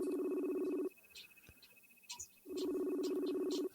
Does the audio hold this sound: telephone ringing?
yes